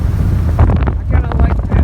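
An Evinrude ETEC 150 outboard motor drives a Glastron CVX16 boat on a lake just after an upshift, a steady low engine drone under heavy wind buffeting on the microphone.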